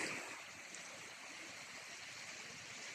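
Sea waves wash onto the shore at Pak Nai in Yuen Long, a steady broadband rush of surf heard close up at low volume with no talking.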